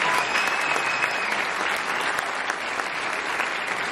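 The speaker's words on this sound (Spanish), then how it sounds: "Un aplauso para ustedes, por favor." Theatre audience applauding at an anniversary celebration, a dense, steady wash of clapping that stays loud and even throughout with no talk over it.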